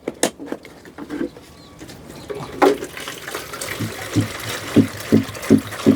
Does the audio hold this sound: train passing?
no